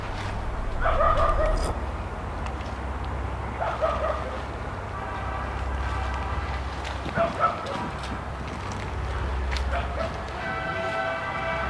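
Dogs bark intermittently in the distance near a main highway, with clusters of yapping barks spread over a constant low outdoor rumble.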